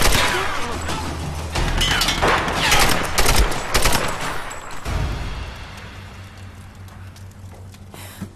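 Heavy gunfire in the Tomb Raider game at Shanty Town: dense, loud bursts of rapid automatic shots for several seconds, tapering into scattered rumbling and a last shot.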